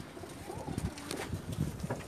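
Pigeons coo softly on a rooftop in Jeddah, Saudi Arabia, low repeated murmurs over a faint breezy background.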